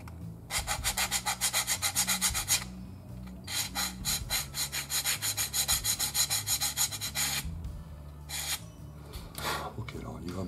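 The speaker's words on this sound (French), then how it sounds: "Donc on va poncer là un tout petit peu pour voir un peu ce que ça donne." A plastic part from an Eduard 1/48 Mirage IIIc model kit is sanded by hand in quick back-and-forth strokes, with rhythmic scratchy rasping in bursts separated by short pauses, heard close up.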